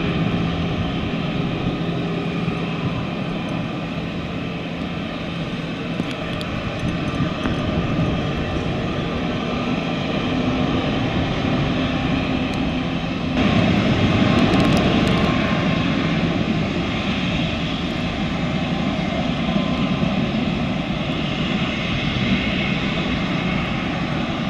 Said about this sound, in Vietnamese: Chiếc C-17 đang rẽ vào đường băng cất cánh 11R.